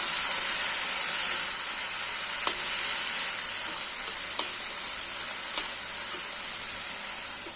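Stem amaranth greens are stirred as they fry in oil in a pan, giving a loud, steady sizzle broken by a few faint scraping clicks from the stirring.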